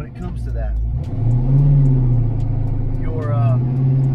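A Foxbody Mustang engine, freshly fitted with Megasquirt, idles with a steady low rumble and a swelling surge partway through, up close, with voices over it.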